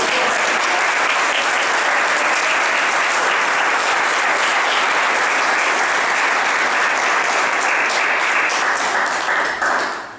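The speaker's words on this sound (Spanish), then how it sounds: "denle un aplauso al Señor" A church congregation applauds a sermon with dense, sustained clapping that fills the space at steady loudness for about ten seconds, then begins to fade at the very end.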